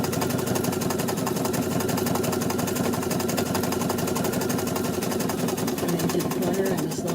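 A sewing machine running steadily while satin stitching an angel applique, a fast, even mechanical whirr with rapid needle pulsing that holds at constant speed, close and fairly loud with no audible talk.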